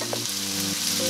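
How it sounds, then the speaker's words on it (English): Tortillas sizzle on a heated comal, a soft close frying hiss with a low steady hum beneath, brief and continuous. "we're gonna put some tortillas on the comal that I have heated."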